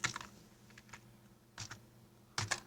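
Clicks from a computer keyboard as a short word is typed, a few scattered bursts of keystrokes close and quiet, with pauses between them and no talk.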